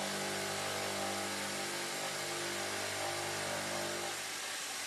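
A Nishijimax NHC1125SQA CNC carbide cold saw runs steadily for about five seconds, a loud continuous machine drone with a sustained whine and dense broadband cutting noise, its tone easing slightly near the end.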